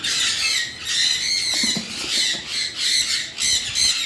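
Sun conure parrots at a bird breeding farm squawking in repeated loud, shrill bursts, several calls overlapping in a steady rhythm close by.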